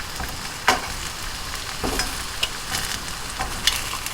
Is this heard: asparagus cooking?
yes